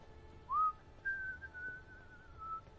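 A character in the Witcher 3 video game whistles softly: a short rising note, then a longer wavering tone, faint against a quiet background.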